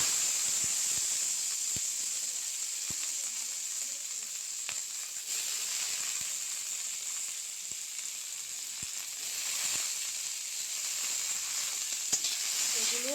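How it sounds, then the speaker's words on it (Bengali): Tomatoes and green chilies fry in hot oil in a home kitchen, giving a steady, close, hissing sizzle that barely varies, dotted with occasional small pops and clicks. "এখন এই তেলটার মধ্যেই দিয়ে দেব টমেটো আর কাঁচামরিচ"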